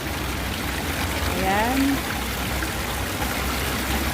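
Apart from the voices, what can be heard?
water trickling and dripping at a grotto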